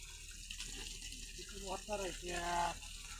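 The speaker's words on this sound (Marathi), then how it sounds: "पाणी सोडलं या चाललंय लेवल करायचं" Water released from a hose or pipe to soak an open yard for leveling near mango trees, a steady gushing flow heard under someone talking close by.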